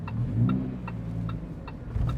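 Lamborghini Huracán STO driving, a low steady engine drone close by, with a regular ticking that repeats about every half second over it.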